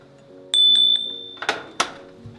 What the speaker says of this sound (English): You need to ring the bell